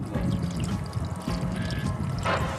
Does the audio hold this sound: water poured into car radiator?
yes